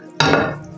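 A pot of seekh kebab curry shaken to stir it without a spoon, giving one sharp metallic clatter of the pan followed by a fading sloshing rattle, close and loud.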